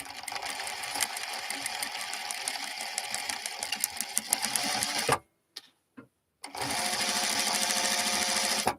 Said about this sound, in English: why isn't my sewing machine working?